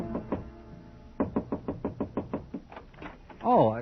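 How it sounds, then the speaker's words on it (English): Knuckles rap on a hotel room door in an old-time radio drama, a steady run of about ten close, clear knocks, followed by a short voice at the end. "I stopped in front of room 300 and knocked."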